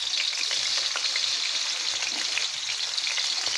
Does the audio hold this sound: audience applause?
no